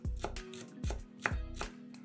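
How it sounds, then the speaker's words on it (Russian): A knife chops parsley on a cutting board in four quick, sharp strokes, close and clear, with a faint hum underneath. "Нарезаем небольшой пучок петрушки."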